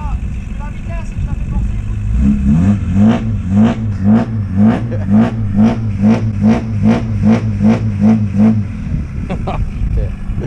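Peugeot 206 S16 engine revved repeatedly, a loud close pulsing drone rising and falling in a steady rhythm of roughly a dozen cycles, with a voice heard before and after.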